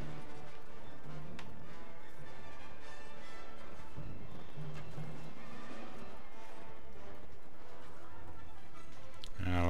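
Horses gallop in the Mount & Blade Warband video game, a steady drumming of hooves with a whinny, under continuous battle noise and faint game sounds, ending in a sharp crash.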